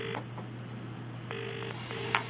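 A phone call is being put through, with dial tones and beeps: a short tone, then two longer tones and a brief blip, heard clearly on the line with no voices.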